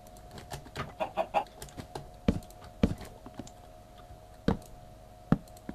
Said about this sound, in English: Sounds like a chicken.